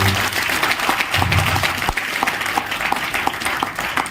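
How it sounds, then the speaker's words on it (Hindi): Loud, sustained applause from an audience at a hotel business meeting in Raipur, Chhattisgarh, dense clapping running steadily throughout with no voices above it. "एक बार अपलाइन सर के लिए जोरदार ताली होनी चाहिए।"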